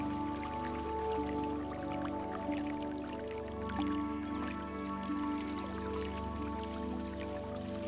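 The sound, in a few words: water being filled into a bottle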